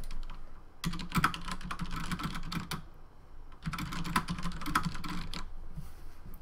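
Fingers type on a computer keyboard in two quick bursts of dense, close key clatter separated by a short pause, with no talking.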